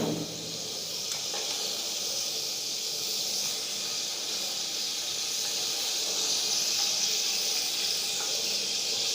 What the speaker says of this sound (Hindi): ये मैं तेल डाल देती हूँ इसमें